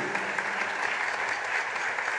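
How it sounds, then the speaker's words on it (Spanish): An audience at a 2021 tribute event claps loudly for an ensemble and for honoree Cornelio, a dense, even roar of many hands that stays steady throughout. "El aplauso fuerte para este ensamble y para don Cornelio"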